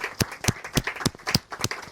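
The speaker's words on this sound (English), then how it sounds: "Can we have a huge round of applause for Lord Brennan KC?" Audience applause at a conference in the House of Lords, UK, honoring Lord Brennan KC: a steady run of evenly spaced, fairly near claps, almost rhythmic, with no voices over them.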